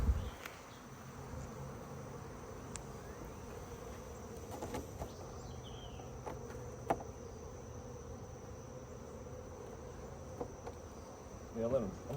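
Honeybees around a hive holding a new queen make a faint, steady outdoor hum that runs low and continuous, with a few soft knocks on top.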